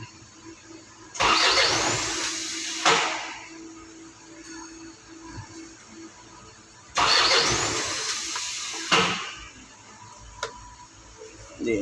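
An Isuzu 4HJ1 diesel engine with an injector problem cranks hard twice, each a loud burst of starter churning lasting about two seconds, separated by a quieter rumbling pause, with no talk.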